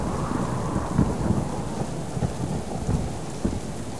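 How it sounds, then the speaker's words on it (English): Steady rain pours down while low rumbles of thunder roll through in a video game, with no voices present. "If it would just stop raining, it wouldn't be so bad"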